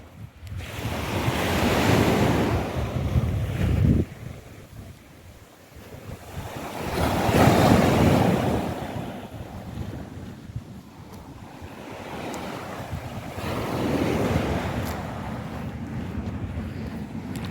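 Ocean waves roll onto Helshire Beach in Jamaica before a hurricane, surging in three broad loud swells with wind buffeting the microphone between them.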